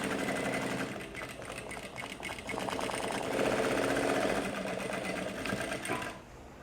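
An industrial sewing machine runs at a fast, continuous whir with a steady rhythmic stitching chatter, loud and close, stopping abruptly near the end.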